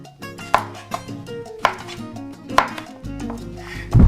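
Knife strikes a cutting board while vegetables are cut into sticks for a fried vegetable medley, a few sharp, irregular chops spaced about a second apart over soft background music.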